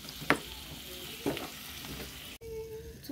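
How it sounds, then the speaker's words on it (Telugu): Cut cucumber pieces sizzle steadily in hot oil in a pan, with a couple of sharp scraping stirs of a utensil partway through and a brief cut-off near the end. "మనం ఆ నూనెలోనే ఇందాక కట్ చేసుకున్న కీరా ముక్కల్ని అయితే వేసుకుంటున్నాము."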